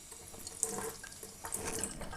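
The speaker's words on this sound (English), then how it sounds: "Now I do need to put a little drop of water in this." Small amount of water trickles into the airlock of a fermenter bung while making rhubarb wine, a soft running pour with faint splashes, steady and close for about two seconds, no voices.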